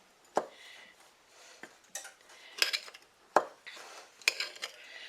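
Cinnamon filling with a pinch of nutmeg stirred in a bowl: a spoon clinks and scrapes against the sides in quick irregular knocks and rubs, close and fairly quiet, with no talking.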